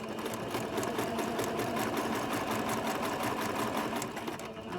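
A small home sewing machine runs steadily, its fast, even stitching chatter continuous and close for nearly five seconds with no voices.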